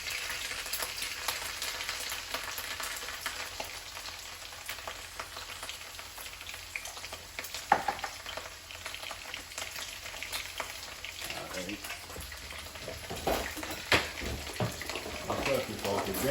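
Steady, crackling sizzle of an egg and vegetables frying in a pan for fried rice, continuous throughout with a few scrapes and stirring clatters near the end.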